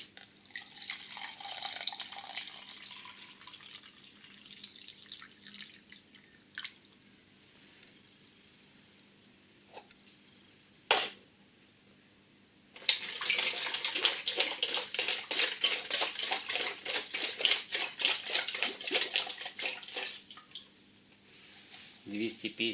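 Water is poured into a second vessel, a bright splashing stream near the microphone that runs for several seconds, following quieter trickling and a brief clunk.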